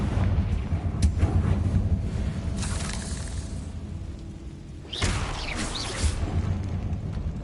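In the Hogwarts Legacy video game, the Confringo blasting curse explodes with a loud, broad burst midway through, set against a continuous rumbling roar of game noise, with smaller crackling impacts before and after.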